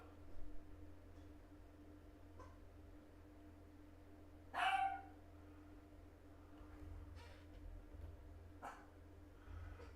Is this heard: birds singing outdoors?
no